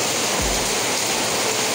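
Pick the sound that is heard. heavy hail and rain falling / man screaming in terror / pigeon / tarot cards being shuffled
heavy hail and rain falling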